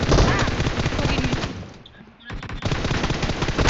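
M249 machine gun firing in PUBG Mobile, rapid dense bursts of shots with a brief lull, then firing again, loud and close.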